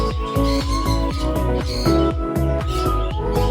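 Several pet birds chirp and call repeatedly at a new homemade play stand, a busy run of sharp, close, rhythmic tweets with no talking.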